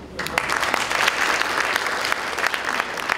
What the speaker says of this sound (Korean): 오늘 박수 한번 보내드립시다